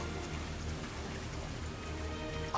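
Rain falling at Castle Grand Corrine in the PS5 game Unicorn Overlord, an even dense patter with no break, heard alone at moderate level.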